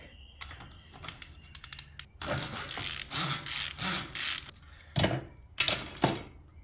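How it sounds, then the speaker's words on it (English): A bike wheel's cassette locking ring is removed with tools, giving bursts of metallic clicks, ratcheting and scraping of varying loudness up close, with a few sharp clanks near the end. "Next, we're going to be removing the cassette. We'll remove the locking ring."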